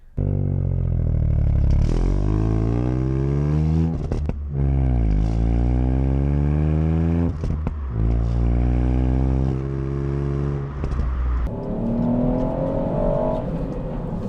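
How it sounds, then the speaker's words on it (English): A Ford Fiesta ST engine revs hard and repeatedly, rising in pitch through several accelerating pulls with brief drops between gear changes, loud and close, ending in a lower rumbling idle. "The noise this car makes is simply, it's pornographic."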